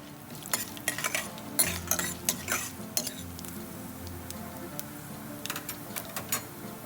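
Spices for tempering sizzle in hot sesame oil for a Tamil pumpkin vathakuzhambu, with a steady frying hiss broken by sharp popping crackles and the clink of a metal spoon stirring against the pan.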